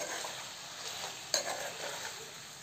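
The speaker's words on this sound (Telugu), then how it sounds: "దీన్ని మొత్తం మళ్ళీ ఒకసారి కలుపుకుందాం మనము" A spoon stirs chicken curry with chili powder in a hot pan, making a soft continuous sizzle and fry with scraping movements and one brief clink of metal.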